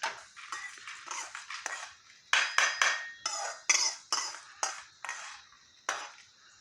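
Roasted ingredients for a shallot tamarind rice spice mix are scraped and tipped onto a plate, giving a run of close, sharp metallic clinks and scrapes of a spoon on steel, irregular and quick with brief pauses between.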